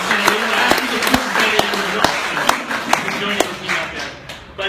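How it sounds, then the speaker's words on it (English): Scattered clapping from a small audience at a Powur company event at the Aloft Cupertino, with sharp individual claps standing out over a room murmur and voices for several seconds. "another hand of applause for John Tabell"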